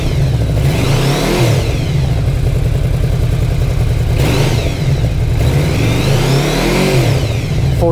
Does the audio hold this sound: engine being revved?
yes